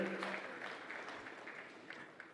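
Audience applause at the 11th Merck Foundation Africa Asia Luminary summit, a steady wash of clapping from a large hall crowd that holds throughout and slowly fades a little, with no clear speech on top.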